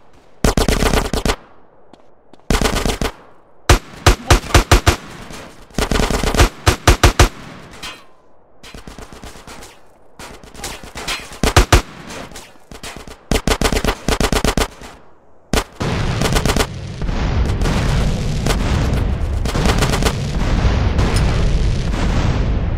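Gunfire from GTA San Andreas: loud rapid bursts of automatic weapon fire with short gaps, some single heavy shots and booms, ending in sustained continuous firing.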